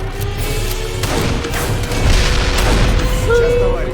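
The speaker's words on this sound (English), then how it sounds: "I love me some explosions!" Deep rumbling booms roll out one after another, a loud, sustained explosive roar with crackling debris throughout, from the video game Darkest of Days.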